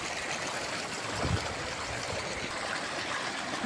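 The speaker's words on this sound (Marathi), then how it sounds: "जोर जोरात पाणी वाहू राहिले." Floodwater flows strongly through a swollen channel after heavy rain, a steady, close, broad rushing wash with no voices over it.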